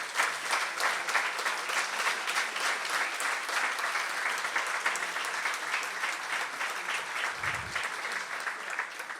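An audience gives warm, sustained applause after a report presentation, a dense steady clapping that holds loudly for several seconds before easing slightly, with no voices over it.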